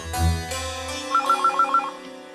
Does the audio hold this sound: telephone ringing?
yes